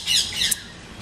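Parrot gives loud, harsh squawks close by, two bursts in quick succession with no talk.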